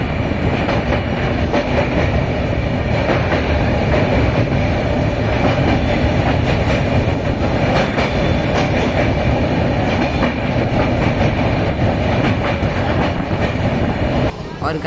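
A passenger train rolling from Kolkata through Jharkhand, heard from inside with a steady loud rumble and rhythmic clickety-clack of wheels on rail joints throughout.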